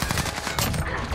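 Shotgun fire in the Modern Warfare video game, likely a Model 680, comes as a dense run of loud, overlapping booms and blasts across a busy gunfight, with game effects layered throughout.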